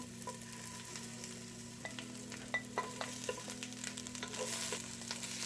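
Garlic and onion frying in a pan for shrimp chopsuey, a steady soft sizzle with faint stirring clicks and a low background hum throughout.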